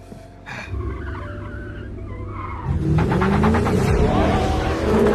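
In a film car-chase scene, a car engine rumbles and then tires skid and squeal loudly and continuously, backed by deep road noise and a faint voice early on.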